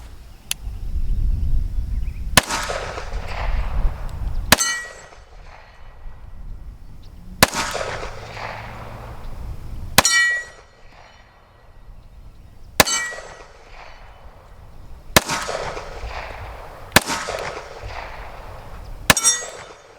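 A Springfield Operator 1911 pistol fires about nine well-spaced shots at steel targets, each sharp crack followed by a bright, lingering metallic clang from the struck steel.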